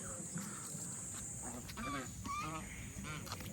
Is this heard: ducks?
yes